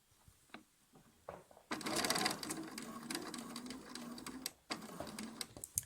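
A sewing machine stitches pieced quilt blocks for an elongated Drunkard's Path pattern, running in a steady close-up burst of needle clatter for a few seconds, pausing briefly, then resuming.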